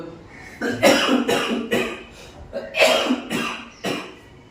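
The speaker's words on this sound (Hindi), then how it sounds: "खांसी आ गया बोलते बोलते मुझे" A run of harsh coughs in quick bursts, close and loud, with a brief pause and then a couple more coughs; no speech.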